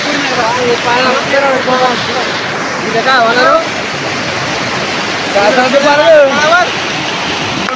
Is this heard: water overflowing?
yes